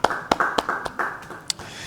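A Bible study congregation claps in short, uneven bursts, several sharp hand claps at close range with no voices over them.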